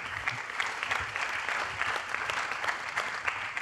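An audience applauds steadily at a conference on Europe's place among China, the USA and Russia: dense, even clapping from many hands throughout, with a few louder claps poking through.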